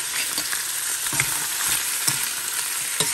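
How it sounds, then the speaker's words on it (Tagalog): Pork ribs sautéing with onion and garlic in a pan, a close, steady hissing sizzle broken by soft scraping stirs at irregular intervals. "Nilagay ko na yung sibuyas saka bawang. Nilalagay na natin yung ribs."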